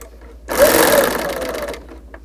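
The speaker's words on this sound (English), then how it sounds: "Upon running the machine, the needle always stops up." A Bernina L850 overlocker with a DC motor runs in one steady whirring burst of under a second and a half, starting and stopping abruptly in an otherwise quiet room.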